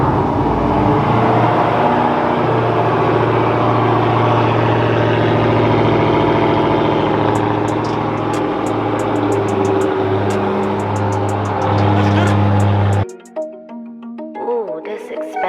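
Dodge Challenger Hellcat cold-starting inside a garage, a loud steady deep rumble with a strong low drone, then an abrupt cutoff near the end leaving quieter faint sounds.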